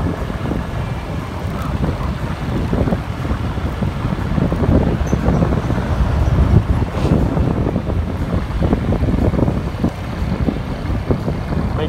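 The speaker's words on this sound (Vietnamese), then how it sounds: "gió ngang thổi rất là lớn" Strong crosswind roars steadily across a microphone on the Tân Vũ bridge at night, a loud, continuous low rumble and buffeting with faint traffic beneath and no talking.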